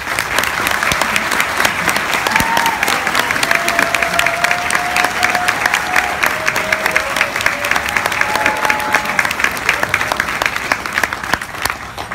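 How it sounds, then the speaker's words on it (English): Crowd at a commencement ceremony applauds the graduating class in a sustained, dense wash of clapping that holds steady for the full stretch, with a faint thin tone drifting through. "let's give them a round of applause for just a moment"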